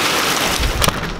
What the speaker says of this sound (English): that's some big hail